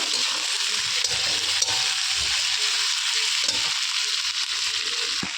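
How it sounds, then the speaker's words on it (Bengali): Potatoes, onion and green chilies fry and get stirred in a pan for a Malabar spinach fruit chachchari, with a steady close sizzle and scraping stir strokes throughout and no talking. "এখন আমি এটা দিয়ে ভালো করে নেড়ে চেড়ে নেব।"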